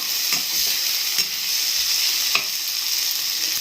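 Chilies and spices fry in a pan for a potato brown stew, giving a steady, soft sizzle with a few faint stirring clicks and no voices.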